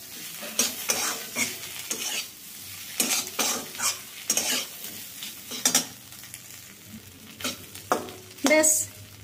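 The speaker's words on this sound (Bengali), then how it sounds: "আর দিয়ে দেব হাফ চা চামচ মতো সাম্বার পাউডার। ভালো করে মিশিয়ে দেব।" Vegetable curry seasoned with sambar powder being stirred in a pan, a spoon scraping in repeated strokes over a soft background sizzle, close and fairly clear with no talking.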